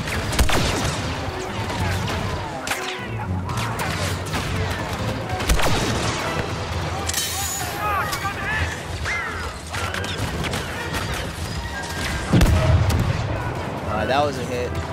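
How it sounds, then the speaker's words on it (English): Rocket launched in Star Wars Battlefront 2 followed by a heavy explosion, amid ongoing battlefield gunfire and blasts, with a player talking throughout and a loud impact near the end. "So you can only shoot one of these rockets at a time"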